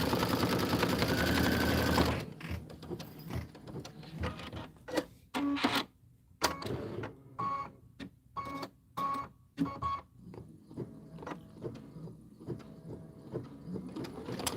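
An embroidery machine sews a placement stitch for felt autumn leaves on a banner: a loud continuous run at first, then choppy short bursts of mechanical stitching broken by brief pauses.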